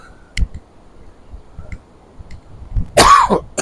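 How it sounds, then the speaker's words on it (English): A single harsh cough near the end, preceded by a few soft clicks and taps in an otherwise quiet setting. "Oh, I've got a bit of a cough still."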